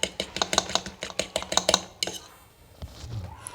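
Eggs whisked in a bowl for breakfast, a quick run of sharp, rhythmic clinks of whisk or fork against the bowl, close and clear, then a pause with faint kitchen noise.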